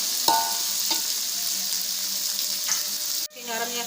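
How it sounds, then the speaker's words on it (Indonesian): Ingredients for Padang-style gulai tauco sizzle steadily in a hot pan, with a few sharp scraping stirs of the spatula and a sudden loud burst of frying near the end. "ini ditumis semua."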